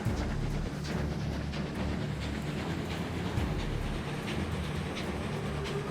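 A train sound effect from a stream alert for Kismet Love Train rolls steadily at close range for about six seconds, with a dense low rumble and faint rhythmic clacking.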